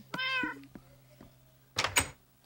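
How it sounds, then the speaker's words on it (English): A cat gives a clear, drawn-out meow inside a Minecraft game, then a few soft taps, and a noisy rustling burst near the end, all over a faint steady hum. "I hear a cat."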